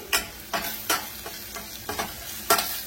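About five grams of spice powder fries in hot tempering oil for bottle gourd rasam, with a soft continuous sizzle broken by rhythmic scraping stirs of a spoon in the pan, close and without talk.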